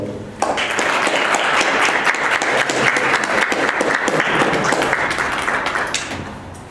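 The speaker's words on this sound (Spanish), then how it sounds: "Un aplauso, por favor" Applause from the audience at an art talk bursts in suddenly after a brief pause, a loud, dense clapping crowd holding steady before tapering off slightly at the end.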